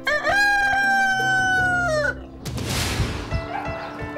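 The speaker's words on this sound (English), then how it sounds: "could someone please shut that rooster up as quickly as possible" A rooster at an animal shelter crows loudly and close by in one long, drawn-out call, followed by clucking and rustling farmyard noise.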